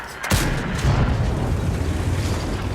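A single heavy tank cannon high-explosive shot from a video game, sharp onset followed by a long rumbling low tail that fills the rest of the clip.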